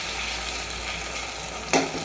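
Frozen spice paste frying in hot oil with onion and ginger for a chicken curry, a steady close sizzle with a brief sharp burst near the end.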